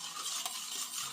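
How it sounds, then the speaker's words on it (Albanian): A spoon stirs a yeast and sugar mixture in a bowl while making simit bread, a quiet, steady scraping swirl with one brief clink partway through. "Prezijmë mirë tani"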